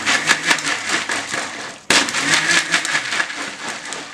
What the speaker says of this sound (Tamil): இப்போ நான் அரைச்சு காமிக்கிறேன்.